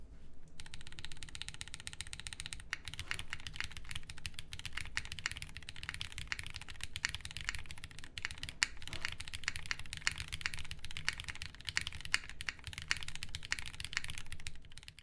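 Steady, fast typing on a Flame 60% keyboard with light tactile switches, GMK Olivia keycaps and no foam inside, a dense close clatter of keystrokes with occasional louder thocks from larger keys, continuing without talk.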